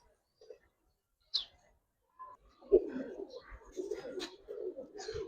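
Giribaz and coloring pigeons cooing in a loft, soft scattered coos and murmurs that grow denser toward the end, with faint background chatter.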